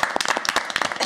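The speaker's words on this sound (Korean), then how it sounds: "아, 박수!" Group clapping in a Korean streamer's studio, a quick run of sharp, close hand claps in uneven rhythm over about a second, fairly loud and without talk.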